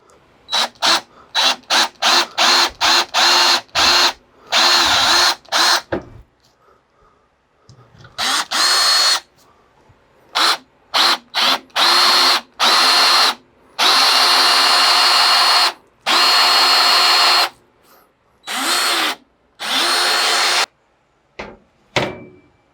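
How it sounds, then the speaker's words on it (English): A power drill whirs in repeated bursts while drilling holes in a DIY flat camera mount base, short stuttering pulses at first, then longer sustained runs with pauses between, close and loud. "now we got to drill a bunch of holes here"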